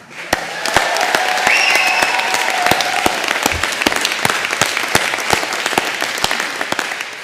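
Graduation ceremony audience at a university hall bursts into loud, sustained applause with cheers and whoops, dense clapping holding steady for several seconds before tapering slightly at the end.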